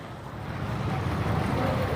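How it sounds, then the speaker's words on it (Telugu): A waterfall facing the Buddha temple at Bodh Gaya gives off a steady, broadband rushing roar that swells slightly, with no voices. "మన బుద్ధునికి ఎదురుగా స్ట్రేట్గా వాటర్ ఫాల్"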